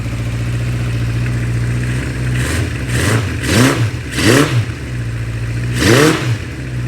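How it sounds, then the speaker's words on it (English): A 1976 Honda CB550 motorcycle engine, unridden for decades, idles steadily with a low hum, then is blipped through four quick revs that rise and fall sharply, loud and close. "it sounds like a low mileage motorcycle"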